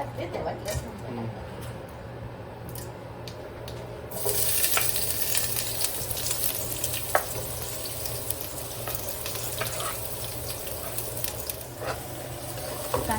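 Onions fry toward golden brown for chicken biryani with a steady sizzle that grows louder partway through, with stirring scrapes and a constant low hum, while people talk over it.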